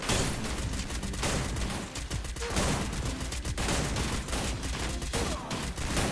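Shotgun blasts in the battle royale game Free Fire pile up into a dense, continuous barrage of loud, close gunfire with no break across the whole stretch.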